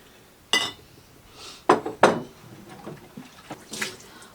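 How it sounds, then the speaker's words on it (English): Glass canning jars clink and knock together as they are gathered up for potato canning, a few separate bright clatters at close range, alone with no talk. "Getting all my jars together."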